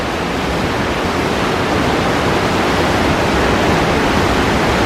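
Loud, steady rush of churning water in a cruise ship's wake heard from a low deck, a broad roaring hiss with no pauses, close by.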